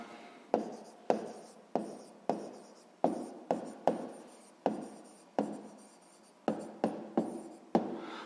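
Pen strokes on paper during a sixth-grade maths exercise on a rectangle's perimeter, a series of about fifteen close, crisp scratchy marks in an uneven rhythm, with no talking.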